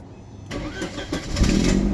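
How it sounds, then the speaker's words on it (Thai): A 1994 Mercedes-Benz C180 engine cranks and catches, rising into a steady low rumble that settles toward an idle, close by with no talking. "เดี๋ยวสตาร์ทเครื่องให้ดูนะครับ"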